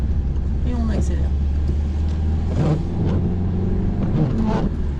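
A car engine drones steadily through a driving lesson on the road toward Chartres, a low continuous rumble as the car pulls away and gathers speed, with an instructor talking over it throughout.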